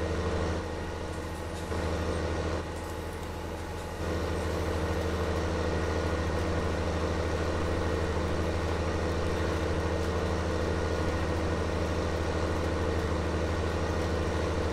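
Steady low engine drone of a tractor in Farming Simulator 19, a continuous idling rumble with a slight shift in tone in the first few seconds, then constant and unbroken with no talk.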